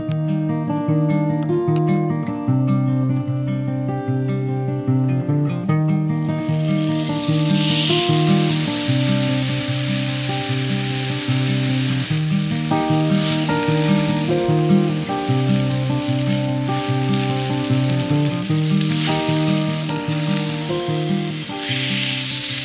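Seasoned wagyu steak hits a very hot pan with a loud, steady sizzle that bursts in after a few seconds and holds strong to the end, with music playing underneath.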